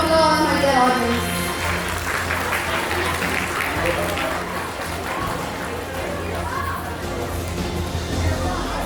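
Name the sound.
audience applause at award ceremony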